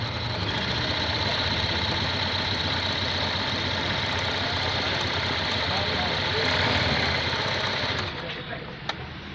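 Sewing machine stitching a design, a steady fast mechanical whirring and rattling that runs continuously, close, then eases off near the end.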